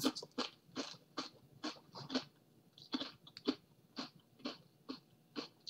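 Crunchy chips from a Universal Yums snack box being chewed close up, a steady series of crisp bites and crunches in an irregular rhythm, quiet and intimate with no talking over them.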